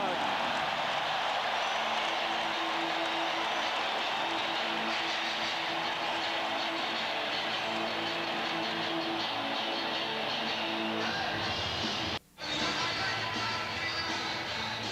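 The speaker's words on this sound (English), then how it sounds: "Listen to the crowd." A loud, roaring arena crowd at a 1995 NBA playoff game between the Orlando Magic and Chicago Bulls, a steady dense cheer sustained throughout with one brief drop near the end, commentary voices faintly under it.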